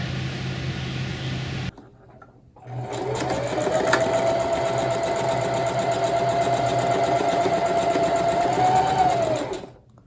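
A sewing machine stitching wool fabric runs steadily for several seconds with a continuous whirring hum, starting after a short pause and stopping abruptly at the end.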